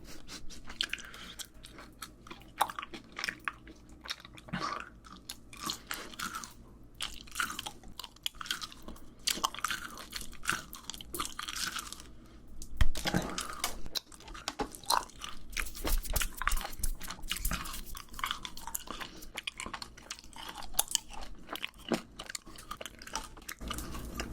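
Close-up chewing and biting of rainbow jelly and gummy candy: soft squishy bites, sticky smacks and occasional crunches in an irregular rhythm, loud and intimate, with no talking.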